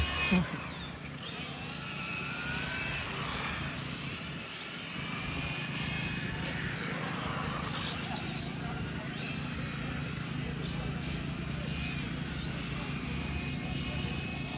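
RC Euro trucks race around an on-road track at a national meet, giving a continuous distant motor whine that rises and falls as they pass, faint and steady throughout.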